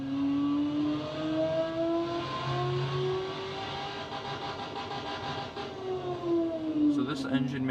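A V8-style engine from a 1971 Ford Mustang, running a test in the Automation car-building game and rated at 500 horsepower. The engine revs up and down in smooth rising and falling sweeps, clear and steady.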